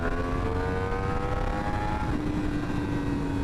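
A motorcycle engine revs with aggressive on-off throttle, holding a steady drone whose pitch climbs, then drops and settles into a lower tone. It sounds fairly close and continuous, with no talk.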